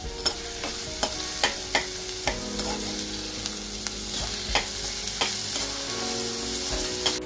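Chopped onion sautés in hot oil in a pan for a Goan-style chicken kheema, a steady close sizzle broken by repeated sharp scrapes and clinks of a spoon stirring against the pan.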